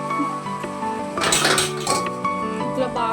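Spoon stirring liver fry in a metal pan, clinking and scraping against the pan's sides in a close, busy burst with no talk.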